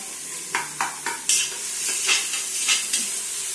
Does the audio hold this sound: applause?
no